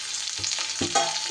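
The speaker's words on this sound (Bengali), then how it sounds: "এইভাবে ঢাকা দিয়ে দিয়ে নাড়িয়ে চাড়িয়ে আলুগুলোকে ভেজে নেব" Potato pieces fry in oil in a covered pan and are stirred, giving a close sizzle with a few soft scraping strokes and lid clatters, no talking.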